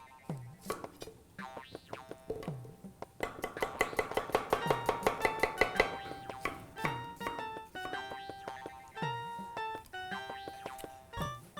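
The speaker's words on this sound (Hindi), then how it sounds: "बारीक बारीक प्याज को स्लाइस करना है।" Onions being finely sliced with a knife in a home kitchen: a quick, steady run of close, crisp cutting taps that peaks in the middle, with scattered clinks and tonal background sounds around it.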